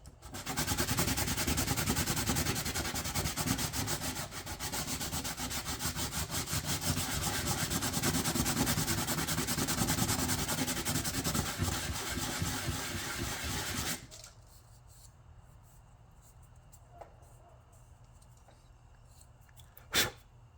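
A part for LED headlights on a Massimo UTV is rubbed back and forth on an abrasive surface, a steady rough scraping for about fourteen seconds, then quiet room tone with a single soft knock near the end.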